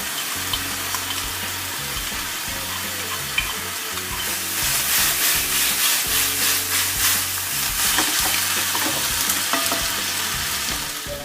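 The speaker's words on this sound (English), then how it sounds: "Finally, I'm going to add garlic." Garlic sizzling and crackling in a frying pan as it is stirred, a steady close sizzle that grows louder and busier partway through, with no talking.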